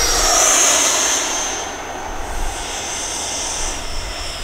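A Freewing Yak 130 EDF jet RC model flying, its ducted-fan engine giving a loud high whine that peaks early and then eases into a steadier, slightly fading rush as it passes.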